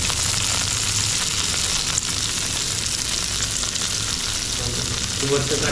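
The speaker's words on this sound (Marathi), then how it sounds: "prawns fry" Prawns fry in a hot pan with a loud, steady, continuous sizzle that fills the whole stretch, close up, with no talking.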